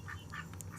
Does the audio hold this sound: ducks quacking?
yes